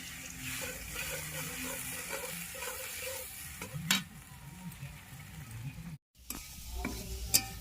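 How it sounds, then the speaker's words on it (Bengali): Prawns are tipped into hot oil in a wok and fry with a busy, close sizzle and the scrape of stirring, a few sharp metallic clinks, and a sudden brief drop-out before the frying resumes. "তেলটা আমার গরম হয়ে গেছে, মাছগুলি এর মধ্যে ঢেলে দিচ্ছি।"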